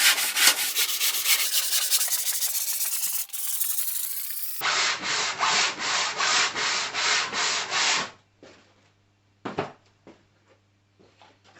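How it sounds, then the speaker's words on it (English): Hand sanding across the wooden surface of a mitre saw, with a run of steady, rhythmic rasping strokes close up, followed by a few quieter scuffs and pauses. "I'll sand just quickly with this and hopefully the high spots will show themselves quite quickly."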